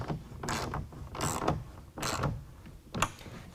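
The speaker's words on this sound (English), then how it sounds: "tighten that down with a 1/2 inch" A 1/2 inch ratchet tightens a tonneau cover rail clamp on a 2017 Ford F-250, close and fairly quiet, four short bursts of rapid clicking with brief pauses between them.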